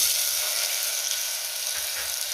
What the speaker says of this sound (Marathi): तेल गरम झालंय आपण मोहरी आणि जिरे घालूया त्यातच कांदा घालायचा आहे